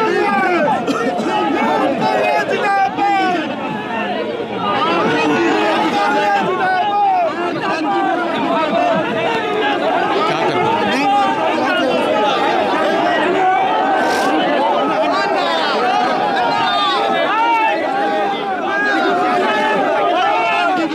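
A large protest crowd of Congress supporters outside Parliament keeps up a dense, steady roar of chatter, shouts and overlapping voices, loud and close throughout.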